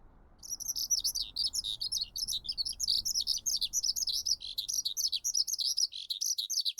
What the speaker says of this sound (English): Wow, they're twittering so much.